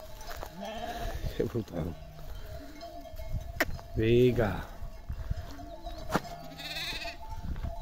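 Sheep and lambs bleating in a pen, several calls near and far in an irregular sequence, with a person talking over them.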